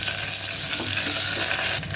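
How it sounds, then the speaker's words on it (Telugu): Curry leaves dropped into hot oil for a tempering for vegetable sambar give a loud, steady, close sizzle and crackle that holds for the full two seconds, with no voices. "చివరగా కొద్దిగా కరివేపాకు వేసుకోవాలి."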